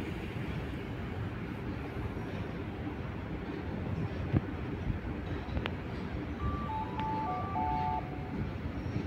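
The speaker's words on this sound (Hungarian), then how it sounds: "Civis Interrégió vonat érkezik Szedredszer felől az első vágányra és indul tovább Budapest nyugati pályaudvarra" A Civis InterRegio passenger train pulls into platform one at a Budapest station, a steady low rumble of wheels and engine with faint brake squeals and brief high tones toward the end.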